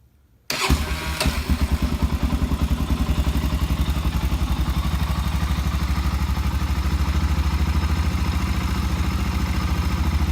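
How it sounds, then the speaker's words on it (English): A stock 2006 Honda TRX 400EX ATV engine fires up after a brief silence and settles into a steady, loud, close-up idle with a rhythmic mechanical clatter, continuing alone without talk. "Crank this thing up and let you guys hear it."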